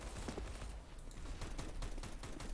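Scattered gunshots crack faintly and at a distance in a CS:GO match, sharp transients rising out of a dense, noisy game background with no one talking.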